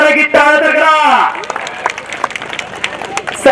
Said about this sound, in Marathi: टाळ्या तर करा की टाळ्या तर करा